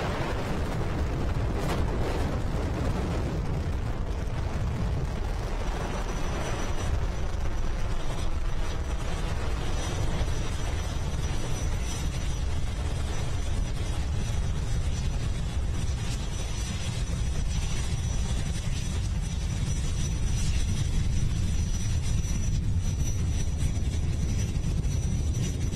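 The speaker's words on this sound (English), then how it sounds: "Liftoff for Falcon 9, the world's first reflight of orbital-class rocket." A SpaceX Falcon 9 rocket on its 2017 liftoff, the first reflight of an orbital-class booster, produces a heavy, continuous low crackling roar that stays loud and rumbling without letup.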